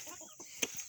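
Chickens in a shaded Ameraucana coop, with a few soft clucks and one sharper, louder squawk near the end, heard up close with no talking.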